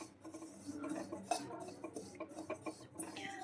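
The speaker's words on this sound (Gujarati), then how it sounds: "હવે આપણે અજમો શેકી લઈશું" Carom seeds (ajwain) being stirred as they roast in a pan over low heat, light metallic scraping and clinking of a spoon against the pan, soft and close, no talk.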